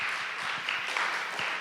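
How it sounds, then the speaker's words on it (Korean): A church youth congregation applauds, a steady, soft wash of clapping heard at a distance and held at an even level throughout. "잘 다녀오라고, 안전하게 다녀오라고 우리 박수하겠습니다"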